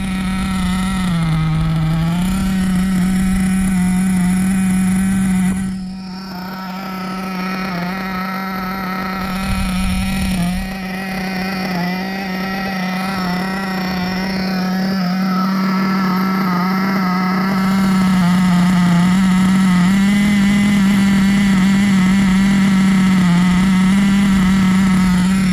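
A Hobao Hyper SST .30 nitro RC engine idles during break-in, a loud, buzzy, steady drone that dips briefly and stumbles, then climbs slightly and holds a raspy idle, heard alone and close.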